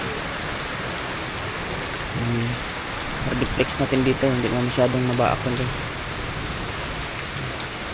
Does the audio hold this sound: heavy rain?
yes